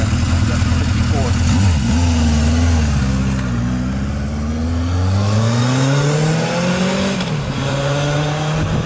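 A 1978 Honda CB750F motorcycle engine runs on a ride, loud and steady, with its pitch dipping and rising again through gear changes.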